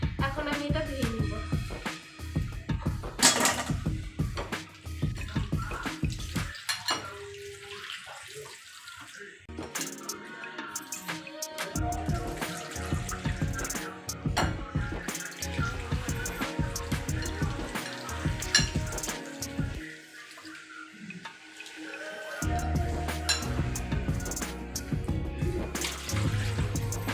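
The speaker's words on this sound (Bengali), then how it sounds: "পটলটা আমার কাটা হয়ে গেছে, এখন আমি এটা ধুয়ে নিব।" Cut pointed gourd pieces are washed in water in a kitchen, with running and splashing water and sloshing in a bowl, close up, with pauses and a brief interruption midway.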